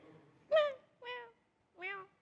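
A human voice imitates a frightened cat that has spilled milk, giving three short, whiny meows in a row with brief pauses between them.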